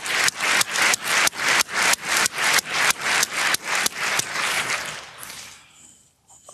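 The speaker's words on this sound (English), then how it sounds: "All right, applause for the students." Audience applause for students at a lecture, a steady rhythmic run of loud, dense claps about every quarter second that fades out near the end into near silence.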